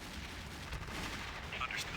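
Gunfire and artillery-like blasts in the Army Men: RTS strategy game, a dense steady barrage of shots rumbling continuously through the scene with no clear gaps.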